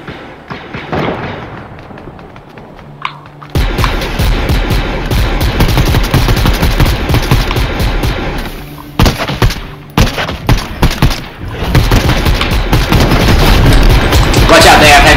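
Heavy sniper and other gunfire in a Fortnite battle, loud booming shots and rapid bursts that begin abruptly and keep going, with a string of distinct separate blasts partway through and voices talking over the din.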